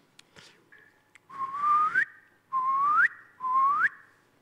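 A person whistles to imitate birdsong in a conference hall: a few short notes, then three loud, sustained whistled phrases that each glide upward at the end, with brief pauses between them.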